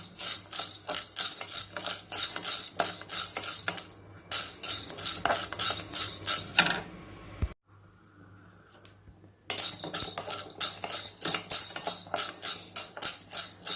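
A spoon scrapes and clatters steadily against a pan while chana dal is dry-roasted after sesame seeds, a fast rattling rhythm of stirring close up, broken by a short quiet pause before resuming.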